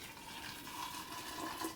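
Hot water pours steadily over ginger pieces in a container, a continuous close splashing rush with no talk.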